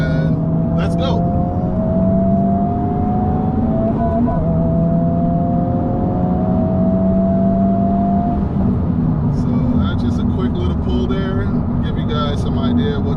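A Honda Civic Type R FL5 pulls hard in third gear after a downshift, its engine note climbing steadily and loud for the whole stretch, with bursts of higher mechanical whine near the end.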